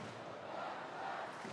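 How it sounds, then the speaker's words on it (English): A stadium crowd at a Germany vs. Denmark women's national football match in Rostock keeps up a faint, distant roar, a steady wash of cheering and chanting with no single voice standing out. "And an enthusiastic crowd."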